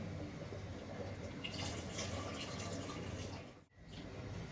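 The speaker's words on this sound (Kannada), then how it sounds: "ಸ್ವಲ್ಪ ಜಾಸ್ತಿ ನೀರು ಹಾಕು" Water is poured into a pot of home-cooked curry in a kitchen, giving a faint, steady rushing trickle that stops briefly near the end and then resumes.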